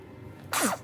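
A baby lets out a single short sneeze, sudden and close, breaking a quiet room.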